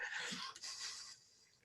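A single short, sharp sneeze, quick and fairly quiet, followed by a faint breathy trail.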